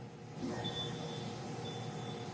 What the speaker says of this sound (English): You will hear this beep. Okay, this beep is normal.